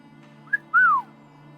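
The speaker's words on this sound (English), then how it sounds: "That's a good whistle." A person whistles two notes: a short, bright chirp followed by a longer, louder note that slides downward, clear and close against a quiet, low background hum.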